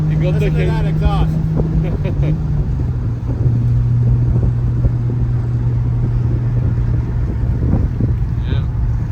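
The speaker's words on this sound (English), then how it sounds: "Listen to that exhaust." A car's exhaust drones steadily from inside the cabin while driving on scenic roads, with a low constant engine hum, pitch shifts as gears change, and wind noise, with people talking over it at the start.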